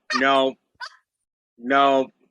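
A dog gives two close, loud whiny barks with a brief yelp between them, each a short strained burst with quiet gaps in between.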